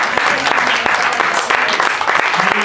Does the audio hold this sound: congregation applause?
yes